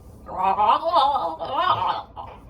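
Two dogs trade low, gurgling, wheezy vocal noises, something like a walrus groan, in two long drawn-out bursts heard close up with no talk over them.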